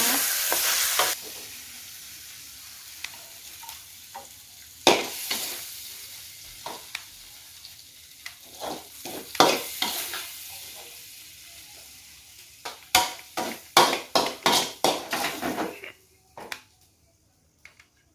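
Crispy fried dory fish is stir-fried pad cha style with fragrant herbs, giving a close, steady sizzle broken by sharp scraping strokes of a spatula, which come in a quick rapid run near the end before it falls quiet.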